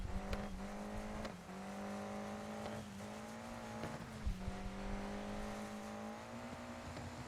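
A race car engine in Dirt 5 drones steadily through a benchmark lap, its held tone rising and dipping slightly with gear changes and occasional tire scrabbles, moderately loud with no talk.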